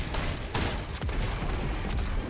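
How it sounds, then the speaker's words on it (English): Rocket explosions in the video game Destiny, during a solo Nightfall strike in The Hollowed Lair: several heavy booms with rumbling tails, including sharp blasts around the middle and near the end, over constant combat noise. "And those explosions do tend to work."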